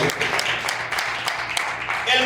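A church congregation claps loudly in praise, a continuous rush of many hands with a few distinct sharp claps, and a voice briefly heard near the end.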